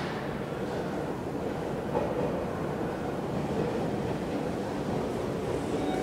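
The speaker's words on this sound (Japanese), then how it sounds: "さあ電車が到着して" Steady rumbling of a train arriving at Meitetsu Higashi-Okazaki Station, heard from the platform, with a broad low roar and faint clatter, continuous and fairly loud throughout, no voices.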